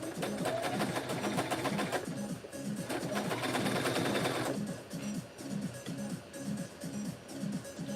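A sewing machine closes a bag seam at a quarter inch, running in steady rapid stitch bursts with a rhythmic mechanical chatter throughout, loud and close, a brief change in pace midway.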